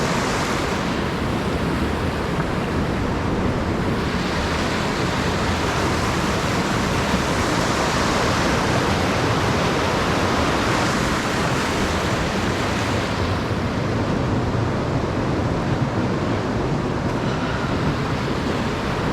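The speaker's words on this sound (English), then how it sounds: "one of the rapids." Rushing river rapids at V-Rock on the Youghiogheny at Ohiopyle, a loud, steady roar of churning whitewater filling the scene without pause, no voices.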